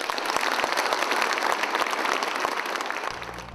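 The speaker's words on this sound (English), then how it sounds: "let's give a round of applause to Ni Pin" Audience applause at a gala banquet, lively continuous clapping from a large crowd that fades toward the end.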